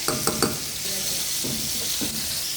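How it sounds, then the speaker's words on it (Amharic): Fish frying in ordinary cooking oil with onions, a steady close sizzle running throughout, broken early on by a few sharp knocks and stirring scrapes in the pan. "ከዛ እንዲህ አሳችንን እንጠብሳለን ማለት ነው።"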